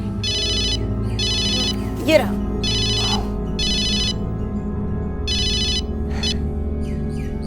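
A mobile phone ringtone plays in repeated electronic bursts with short gaps, fairly loud indoors, while someone speaks briefly over it.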